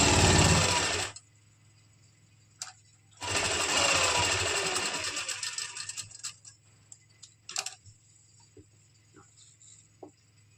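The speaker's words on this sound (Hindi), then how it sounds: "अब हम जो हमारा ये शोल्डर वाला लाइन है इसको हम इस तरह से सिलाई लगा लेंगे लाइनिंग और कुर्ती के फैब्रिक पे" A sewing machine runs two bursts of steady, rapid stitching as it joins lining to kurti fabric at the shoulder line, the second run longer. Scattered clicks and taps follow in the quiet between.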